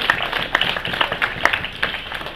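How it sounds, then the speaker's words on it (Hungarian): Sparse clapping from a small audience at a Hungarian ceremony, individual claps standing out in an uneven rhythm against a faint room background. "egy tapsot ők is megérdemelnek"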